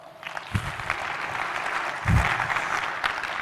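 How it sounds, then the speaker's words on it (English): An audience claps at a running-industry trade event, a sustained round of applause at moderate volume with a couple of louder swells. "Let's give Jim a round of applause."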